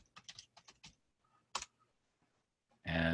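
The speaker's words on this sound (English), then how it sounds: "Just type in what you're looking for" Keys clicking on a computer keyboard as a search is typed: several quick bursts of taps with short pauses between them, close and fairly quiet, then a louder clattering rush of sound at the very end.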